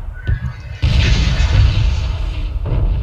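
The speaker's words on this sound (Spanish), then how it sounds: "estoy viviendo la explosión aquí a 220" A heavy explosion in the battle royale game PUBG, a sudden deep boom followed by a sustained roaring blast and rumble, loud and close, with faint voices underneath.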